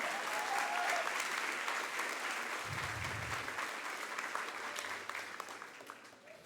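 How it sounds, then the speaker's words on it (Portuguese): An audience gives a round of applause, a full, continuous burst of clapping that stays dense for several seconds and then gradually thins out, with a brief low thump partway through. "Dê um aplauso de verdade."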